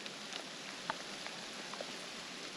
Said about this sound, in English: The rain is feeling great.